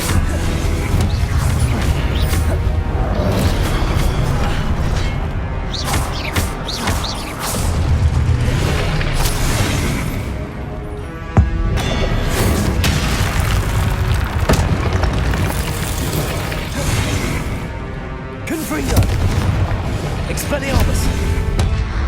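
Confringo explosion spells in Hogwarts Legacy, loud booming blasts and crashes bursting repeatedly over a dense, rumbling game soundscape, with a voice speaking at times.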